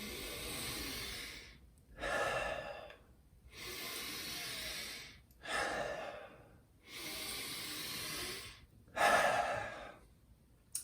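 Slow, full deep breaths, three long exhale-and-inhale cycles, each a drawn-out airy rush of air followed by a brief pause, close and clear with no talking.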